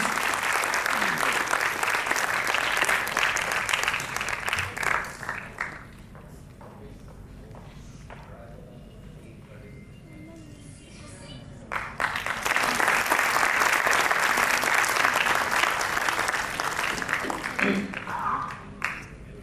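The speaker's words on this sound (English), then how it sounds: "Another round of applause, please." Audience applause at a student award ceremony, loud sustained clapping from a large crowd that fades to a quiet lull with talking, then swells again into a second long round.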